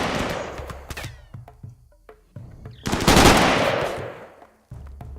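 Bursts of automatic gunfire and single shots ring out during a battle in the colony game RimWorld, sharp cracks separated by short pauses, with one long dense volley near the middle.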